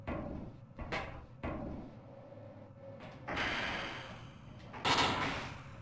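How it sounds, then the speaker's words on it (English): Heavy sliding doors in the video game Half-Life open with loud mechanical hissing and rumbling, several bursts in a row, the last ones long and grinding, filling the space without speech. "These doors are so loud."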